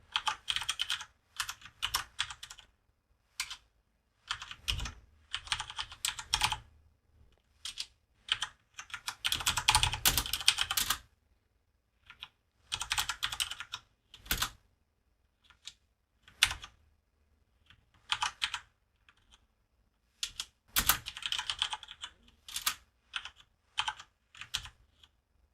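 Code being typed on a computer keyboard in bursts of fast clicking keystrokes, broken by short pauses and silent gaps, close and clear with no talking.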